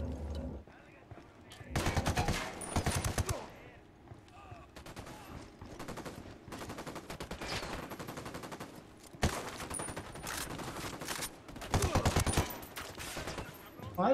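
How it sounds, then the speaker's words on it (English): Automatic gunfire in the video game Ghost Recon Wildlands, several loud bursts of rapid rifle shots separated by short quieter gaps, close and sharp throughout. "Shooting."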